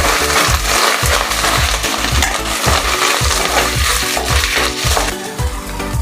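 Coconut powder being stirred into a curry, a loud, steady scraping rhythm of a spoon against the pan, repeating roughly twice per second, close up with busy background sound.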